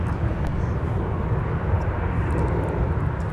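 A fixed-wing airplane at Minneapolis–St. Paul airport, departing on the north side near runway 30 right, produces a steady, loud engine roar that holds evenly throughout with no talk.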